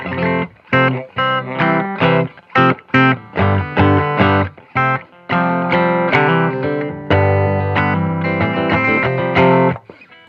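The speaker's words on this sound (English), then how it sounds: "So this is the sound of the guitar without any delay." Clean electric guitar through a warm Princeton tube amp plays a steady run of plucked notes and chords, dry with no echo tail, alone and fairly loud.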